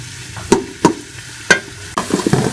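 Chopped onions frying in oil in a pan, close and fairly loud, with a soft bed of sizzle punctuated by four sharp spoon scrapes and knocks at irregular intervals.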